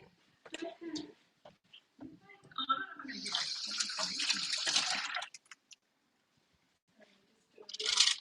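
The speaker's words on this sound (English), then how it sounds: "And I'll go wash my hands again." A household tap runs for about two seconds as hands are washed under the water, with people talking before and after the rushing flow.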